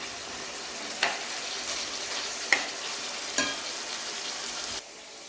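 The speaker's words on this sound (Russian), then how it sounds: "Пускай лучок пока жарится, обжаривается чуть-чуть" Chopped onion frying in a pan at the start of a plov, a steady soft sizzle with a few sharp stirring clicks and scrapes at intervals, close and alone without talk.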